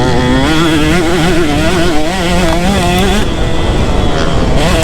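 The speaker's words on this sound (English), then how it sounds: "I know it shouldn't be lugging, but I like lugging" Two-stroke motorcycle engine lugging at low revs while riding, a loud, close, rough burbling drone that wavers in pitch without climbing, with wind rush over the top.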